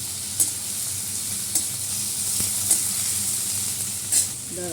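Bitter gourd, potato and tomato frying in a pan with dry red chilli and nigella seeds, a steady close sizzle with occasional sharp stirring clicks and scrapes, no voices.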